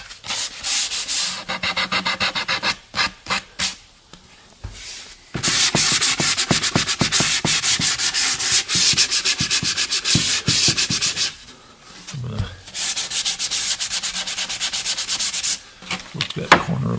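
Sandpaper is rubbed by hand along a wooden edge to even out a routed profile, in close, loud rhythmic strokes that come in bursts separated by brief pauses.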